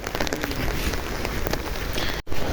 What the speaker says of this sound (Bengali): বৃষ্টির আওয়াজ কলা গাছের পাতায় পড়তেছে